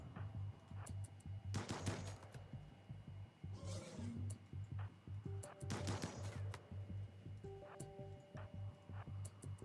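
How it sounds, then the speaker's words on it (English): Gunfire in RimWorld, bursts of rapid automatic shots in two main clusters with scattered single cracks between, fairly quiet and mixed with faint game sounds. "Start shooting that thing."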